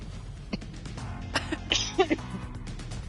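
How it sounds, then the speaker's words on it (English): A few short, sharp coughs close by, scattered over a couple of seconds against a low, steady background hum. "That was a cough, yeah."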